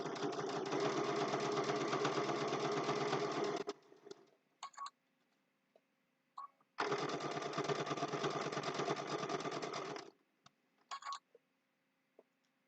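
Sewing machine stitching a snowman mug rug, two long steady motor runs of close, even needle whirring separated by a pause with small clicks and handling taps.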